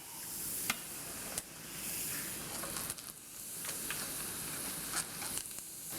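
Garlic deep-fries in hot oil inside a strainer ladle, giving a continuous close sizzle and hiss with a few sharp clicks as the ladle is dipped and lifted.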